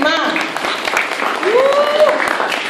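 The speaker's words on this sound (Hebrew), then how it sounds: "מחיאות כפיים לבתי הגזית" Applause from an exhibition crowd honouring a sculptor, a steady wash of clapping that runs throughout, with a voice speaking over it.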